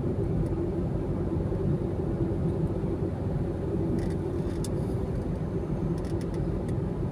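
A car cruises on a motorway during a driving lesson, a steady loud low engine and road rumble that holds even throughout, with no clear revving swell and no talk.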